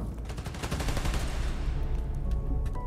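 Dense bursts of rapid automatic gunfire rattle continuously in the Spider-Man: Miles Morales video game, loud and sustained, with shots fading slightly toward the end and no speech.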